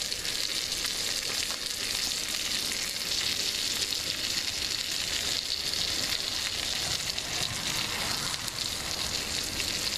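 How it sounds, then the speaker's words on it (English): Mushrooms and asparagus fry in a cast iron pan, giving a steady, close, crackling sizzle throughout with no voices. "Definitely time to add some mushrooms and the asparagus. Because asparagus takes a little while to cook."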